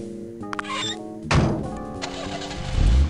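In the Sam & Max Hit the Road video game, car door sounds open the clip, then a solid door thunk is followed by an old car's engine cranking and starting up into a low rumble.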